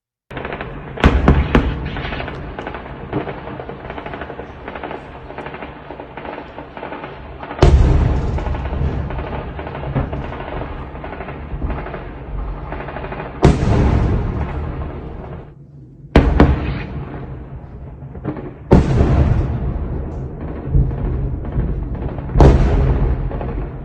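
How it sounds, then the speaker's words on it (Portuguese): Heavy gunfire crackles continuously in Nova Kakhovka while loud explosions boom out every few seconds, some sharp and close, others rumbling with a long decay. "Bastante tiro e explosão ali."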